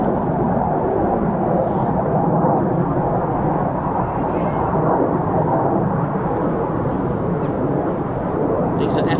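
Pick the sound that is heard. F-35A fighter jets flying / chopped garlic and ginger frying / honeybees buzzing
F-35A fighter jets flying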